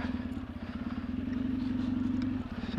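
An off-road motorcycle on a rough trail with bumps and ruts, its engine droning steadily up close with rapid pulsing and a rattling clatter as it jolts over the uneven ground.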